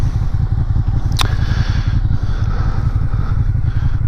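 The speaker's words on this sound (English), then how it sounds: "here we have Suzuki Gladius, new bike" Suzuki Gladius motorcycle engine running steadily up close, a loud continuous low rumble with a brief metallic clatter partway through.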